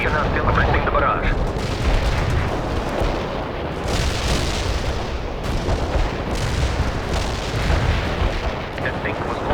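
Heavy artillery barrage in World in Conflict, continuous booming impacts and rumbling explosions layered densely throughout, with radio-style voices speaking over the shelling.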